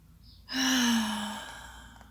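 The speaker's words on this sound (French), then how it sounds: "je peux choisir d'entrer dans le bâillement comme dans la relaxation, doucement," A yawn during a sophrology relaxation exercise, one slow, soft, drawn-out breathy exhale with a gently falling voiced tone, heard close and alone in a quiet room.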